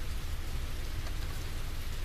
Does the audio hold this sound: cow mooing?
no